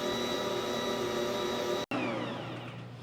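Black Bosch Universal Plus stand mixer kneading bread dough of fresh milled flour, a steady motor whine and hum with a brief cutout partway, then continuing drone.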